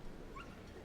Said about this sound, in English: The little Finnish Lapphunds,